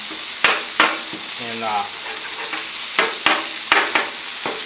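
Steaks frying on a flat-top griddle whose grease runs off into a trap, a steady close sizzle broken by sharp scraping clicks and a brief whine near the middle.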